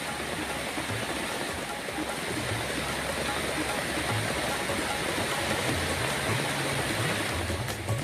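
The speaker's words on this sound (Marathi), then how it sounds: "वाहणाऱ्या निगडीच्या ओढ्यानं धोकादायक पातळी आता ओलांडली आहे" The Nigdi stream, flooded by heavy monsoon rain and running at a dangerous level, gives a loud, continuous roaring rush of water that stays steady and close throughout.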